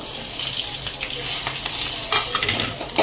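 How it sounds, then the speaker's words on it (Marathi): Mustard seeds, cumin, curry leaves, asafoetida and chilli powder fry in hot oil for tomato saar, a continuous close sizzle with crackling bursts and stirring scrapes, and faint talk underneath. "तेल गरम झालं तर ह्याच्यामध्ये राई जिरे, कढीपत्ता टाकूया, थोडेसे हिंग"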